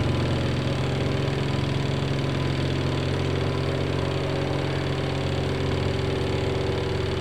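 A Panasonic twin-tub washing machine on its spin cycle gives a steady, unbroken motor hum with a low rumbling drone, close and continuous, with no voices.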